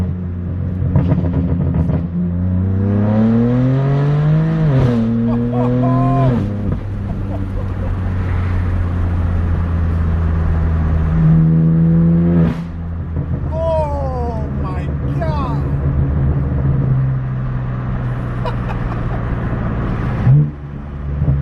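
Straight-piped BMW M4 F82 exhaust revs loudly up and down in repeated rising sweeps, a deep droning rumble underneath, close and dominant throughout with a few sharp bursts.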